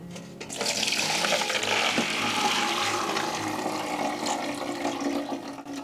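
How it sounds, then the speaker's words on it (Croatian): Soaked beans are rinsed under running water, a steady splashing stream like a tap filling a sink that starts abruptly and carries on close and even to the end. "Sljedećeg jutra dobro ćemo ga isprati."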